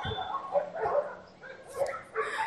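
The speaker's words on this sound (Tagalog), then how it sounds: "nagtatahulan yung mga aso pagka may ganyan" Dogs bark in several short bursts across the clip in Nepal, moderately close, with some voices mixed in.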